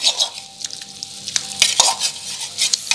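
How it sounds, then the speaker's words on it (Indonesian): Soaked krupuk crackers go into a pot of boiling, spicy seblak broth, giving a close wet sizzling and bubbling with stirring clatter and a few sharp splashes and knocks, with no talking. "Kalau sudah mendidih, kita masukkan kerupuk yang udah direndam, kita masukkan kerupuknya."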